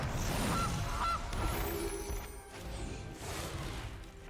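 A goose card in a digital card game lets out a couple of short, loud honks over busy game music and effects, with a brief whoosh in between.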